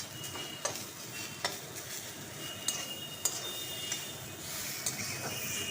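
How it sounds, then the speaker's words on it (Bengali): A tomato and paneer paratha filling is stirred in a pan over a soft sizzle, with a few light scrapes and ticks of the spoon against the pan, quiet and close. "এবার হালকা করে এরকম নাড়িয়ে নিয়েছি।"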